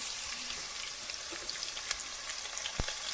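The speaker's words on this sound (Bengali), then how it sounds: "এখন আমি এই তেলের ভিতরে আলুগুলো দিয়ে দেবো আলুটা ভেজে নেব" Potatoes frying in hot oil give a steady, even sizzle throughout, with a single sharp click near the end and no voices.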